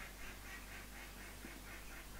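Ducks quack faintly in a repeating rhythm somewhere in the background, soft and fairly distant, with a low steady hum beneath.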